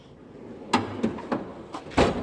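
A drawer on a Snap-on KRL toolbox slides and bumps several times, a string of short knocks and rolling clunks with a louder thud at the end, close and fairly quiet.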